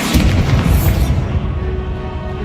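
A Bombarda spell explosion in Hogwarts Legacy, a loud deep boom with a bright crackling burst at the start, then a rumbling tail that fades over about two seconds.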